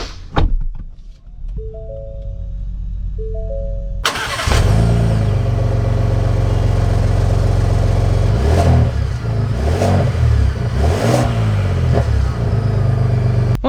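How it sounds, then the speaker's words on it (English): A 2022 Ford Expedition Max Limited Stealth with an engine start and a couple of short chimes, then a loud, close engine rumble and a humming drive with repeated rising and falling revs as it sets off, and no talk. "So we are setting off here in the Expedition Max Limited Stealth"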